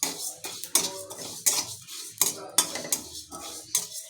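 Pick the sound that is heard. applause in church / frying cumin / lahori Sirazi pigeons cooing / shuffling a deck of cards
frying cumin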